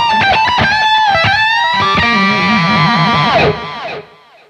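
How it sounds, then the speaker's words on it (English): Electric guitar lead through a 1995 DiMarzio Air Norton pickup, glassy and distorted with effects, playing fast picked notes that settle into sustained, wavering bends before cutting off and fading. "the Air Norton gives a very glassy sound with plenty of character and clarity for fast picking lines"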